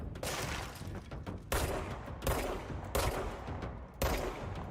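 Rapid bursts of weapon fire from the video game Control, loud and close, arriving in four strong volleys with crackling impacts between them.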